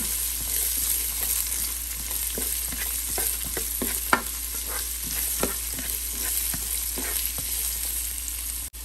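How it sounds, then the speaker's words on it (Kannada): Chopped onion fries in oil in a pan with a steady sizzle, while a spoon stirs it with repeated soft scraping strokes, close and continuous. "ಸೊ ಒಂದು ದೊಡ್ಡ ಈರುಳ್ಳಿನ ಕಟ್ ಮಾಡಿ ಇಟ್ಕೊಂಡಿದ್ದೀನಿ, ಅದನ್ನು ಹಾಕ್ತಾ ಇದ್ದೀನಿ. ಸೊ ಚೆನ್ನಾಗಿ ಮಿಕ್ಸ್ ಮಾಡೋಣ."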